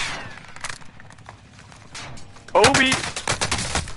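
Gunfire in a multiplayer shooter video game during a team tournament match: sparse shots early, then a sudden loud burst of rapid automatic fire that continues, with players shouting over it.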